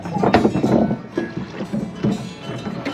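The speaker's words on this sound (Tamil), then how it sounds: "சுவிஸ்ல வந்து போட் எடுத்துட்டு தன்னந்தனியா போயிட்டு இருக்கோம்" A small rowboat glides across a Swiss lake, oars dipping in a steady stroke rhythm with soft water splashes and light wind rumble close to the microphone.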